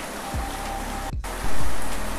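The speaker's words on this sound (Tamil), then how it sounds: "நல்ல மழை பெய்யுதுங்க சென்னையில்." Heavy rain pours steadily in Chennai, a dense, loud hiss of water with a brief dropout and a surge in intensity partway through.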